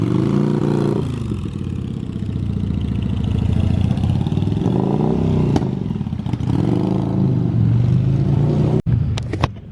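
A motorcycle with only one working cylinder starts and runs loud and close, its rough engine note rising and falling through several revs, ending with a sharp click.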